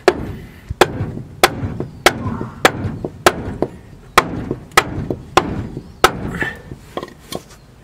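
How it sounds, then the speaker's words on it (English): Heavy hammer blows strike metal in a slow, steady rhythm, about a dozen loud ringing impacts spaced roughly half a second apart, during a front suspension rebuild on a 1972 Ford F250 with twin I-beams. "We'll try the big hammer."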